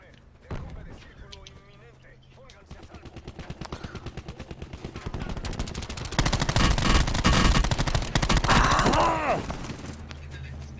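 Rapid gunfire rattles through a Call of Duty Blackout match, bursts of machine-gun fire building into dense, loud volleys that run almost continuously through the second half, while players talk over the shooting.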